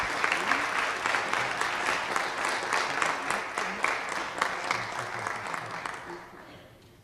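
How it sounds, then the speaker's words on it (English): Another round of applause at a city council meeting for a Citizen of the Month honoree, dense clapping from the room that holds steady and then fades out over the final second. "Can we give her another round of applause?"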